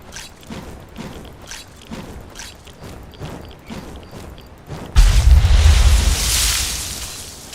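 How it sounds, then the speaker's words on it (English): A huge water explosion in the PC game Fallout 3 erupts as a sudden loud booming roar with a rushing spray that swells and slowly fades, following a stretch of quieter rhythmic game sounds. "I have no idea why that caused a huge explosion of water like that."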